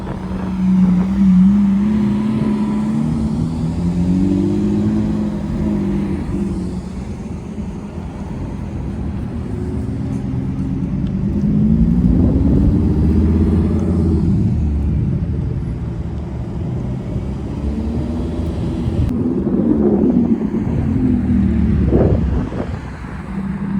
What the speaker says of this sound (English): Look at the rock star Lucas here, bringing in the two LaFerraris behind him.